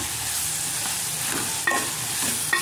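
Curry is stirred with salt in a hot pan, giving a continuous sizzle with scraping stirs and a couple of sharper clinks of the spoon against the pan.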